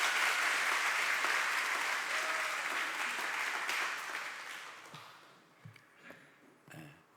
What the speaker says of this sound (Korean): 우리 나오실 때 박수 보내주시기 바랍니다.